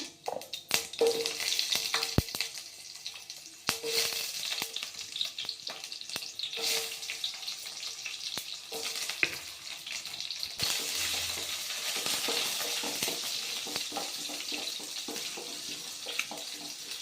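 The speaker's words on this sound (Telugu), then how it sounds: "ఆవాలు, జీలకర్ర వేస్తున్నాను" Mustard seeds and cumin dropped into hot oil in a pan, crackling and sizzling steadily at close range with occasional sharper pops and clatters, and no talking.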